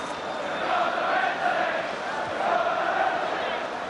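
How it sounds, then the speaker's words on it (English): A football crowd at Goodison Park roars and chants in a steady, distant wash of massed voices, swelling and ebbing at an Everton league match. "They're shouting now, we're going to win the league"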